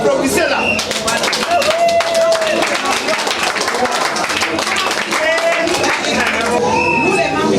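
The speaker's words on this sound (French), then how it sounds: "Donc, on va applaudisser là." Crowd applause at a political party's anniversary celebration, dense rapid clapping that fills the whole stretch at a loud, steady level, with voices mixed in.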